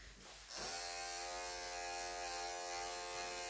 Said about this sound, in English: I'm just going to put the comb on the end of the clippers and just take a little bit of this thickness away from him